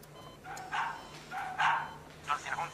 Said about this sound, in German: Lass den Hund aus.